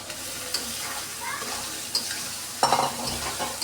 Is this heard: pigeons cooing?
no